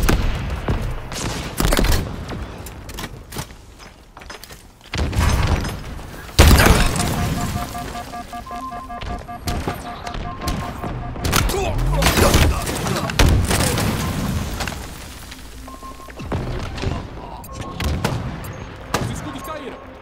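Rapid bursts of Halo Infinite gunfire and booms on Xbox Series X, dense and loud, with voices and Portuguese game announcements mixed in throughout.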